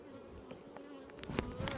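Honey bees buzz around an open hive with its super lifted off, a soft continuous hum with individual bees passing near, growing slightly busier toward the end.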